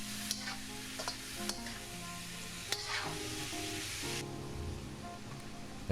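Pork and pineapple are stirred in a hot pan, giving a constant sizzle with scattered scraping and clicking strokes of the utensil, close and steady throughout, with no voices.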